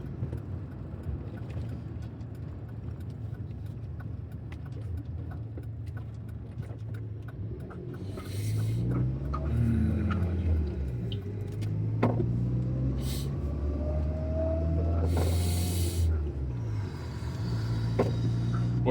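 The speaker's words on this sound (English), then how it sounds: "There's someone else driving fast behind me." A car passes fast on the road as heard from inside a pulled-over vehicle, its engine rising and falling in a swelling whoosh over a steady idling hum.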